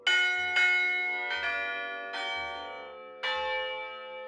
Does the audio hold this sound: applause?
no